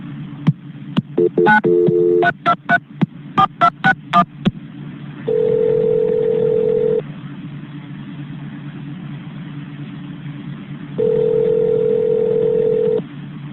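Touch-tone dialing on a phone line during a call transfer to a shift commander: a quick burst of about a dozen short DTMF beeps, then two long steady tones separated by a quiet hiss on the line, with no talk.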